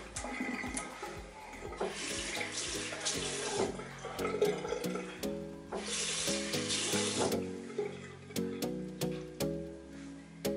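Tap water runs steadily at a sink while someone wets their face with their hands during a makeup routine, a soft continuous trickle with splashes, partly under background music.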